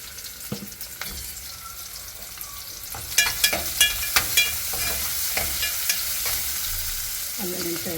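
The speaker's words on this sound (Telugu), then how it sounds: "కొంచెం ఇంగు వేస్తున్నారు అత్తమ్మ ఉల్లిగడ్డలు ఫ్రై అయినాక" Onions fry in oil with a pinch of asafoetida added, a steady sizzle under a quick run of sharp spoon-against-pan stirring knocks, close and clear with no speech.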